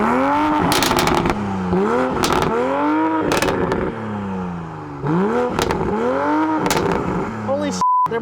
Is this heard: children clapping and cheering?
no